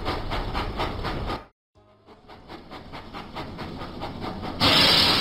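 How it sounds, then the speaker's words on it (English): In a Thomas & Friends video game, a steam engine chuffs in a steady rhythmic beat. After a brief silent gap it keeps puffing with a hissing, clattering rail sound, and it swells louder at the very end. "Thomas puffed proudly into the Sodor Search and Rescue Centre."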